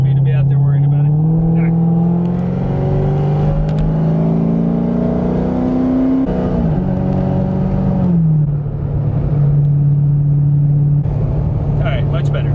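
A Chevrolet C6 Corvette cruises on an interstate, its V8 engine droning loud and close inside the cabin, pitch climbing smoothly through gears, dipping at a shift, then settling into a steady hum.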